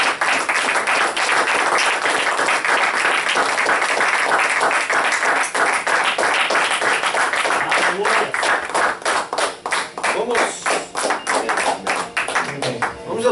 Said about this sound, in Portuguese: Salve de palmas para o Senhor Jesus